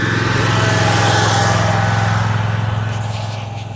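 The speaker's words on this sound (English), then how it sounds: "He drives a mower." A ride-on lawn mower with multiple cutting decks runs steadily nearby, its engine a constant droning hum that fades slightly toward the end.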